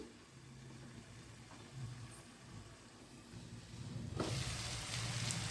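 Papdi and cauliflower curry sizzling steadily in a covered pan, a continuous close frying hiss that grows louder and brighter toward the end, with no talking.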